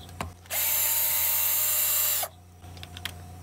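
A power drill backing quarter-inch screws out of a push mower being torn down for scrap, one loud steady whine lasting under two seconds, close by, with light handling clicks around it.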